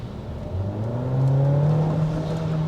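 A Renault Samsung SM6 TCe 300 turbo engine with active sound design builds revs under acceleration, its note climbing smoothly into a loud, sustained whirring drone heard from inside the car.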